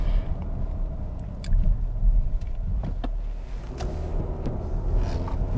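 A 2021 Kia Sorento SX Prestige X-Line with its 2.5-liter four-cylinder engine under way, giving a steady, close low rumble of engine and road noise inside the cabin with a few faint clicks and knocks.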